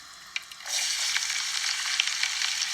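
Asafoetida hits hot oil and bursts into a steady, bright sizzle that starts after a couple of faint ticks and keeps crackling evenly, close up, with no voices over it.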